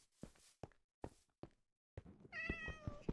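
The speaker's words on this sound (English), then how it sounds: "hearing the cat walking around down there did spook me a bit" A cat in Minecraft pads around with soft, scattered footstep thunks, followed by a clear, close meow near the end.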